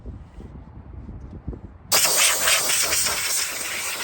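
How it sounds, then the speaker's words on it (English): A short puff of air and then a strong, loud, continuous hiss as an air compressor nozzle blasts dirt out of lawnmower engine parts, after a quieter start with low clatter. "gonna take the air compressor to this and clean it out really quick"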